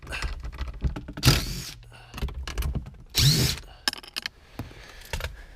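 A power drill removes Phillips screws from a Subaru Legacy console in a few short, close whirring bursts, separated by clicks, taps and handling noises of parts and tools.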